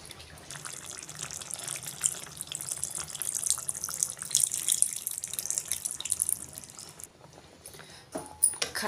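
Tamarind water is poured into a simmering mutton and okra stew, giving a soft, steady splashing trickle with hissy highs and a few louder splashes near the end, fairly quiet and close.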